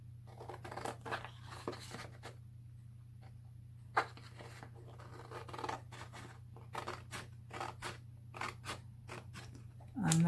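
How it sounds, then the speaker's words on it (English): Scissors trim excess cardstock off the back of a handmade Christmas card, giving a string of quiet, uneven snips and crisp cuts over a steady low background hum, with no talking. "just going to trim the excess off the back"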